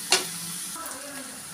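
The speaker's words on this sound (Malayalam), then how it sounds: "2 പച്ചമുളക്, ഇഞ്ചി ചതച്ചത്, വെളുത്തുള്ളി ചതച്ച് എല്ലാം കൂടെ ഇട്ടിട്ടൊന്ന് വഴച്ചെടുക്കാം" Green chillies with crushed ginger and garlic sizzle in a pan, a soft continuous frying hiss with a light clink of stirring near the start.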